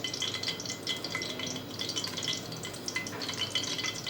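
Hot oil sizzling in a pan as the base for a mutton curry, a steady close frying hiss with light crackle throughout, no voices.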